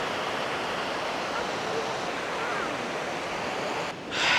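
Broad, steady rush of a waterfall, a continuous roar of falling water heard close and loud throughout, with a brief shift in texture near the end.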